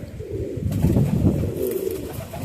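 Pilanka pigeons coo softly and continuously up close, a low, throaty burbling that rolls on without pause.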